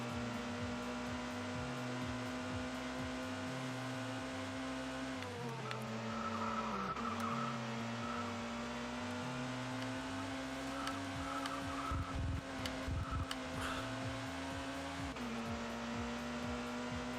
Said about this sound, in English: you can hear the cars coming down the hill on the other side there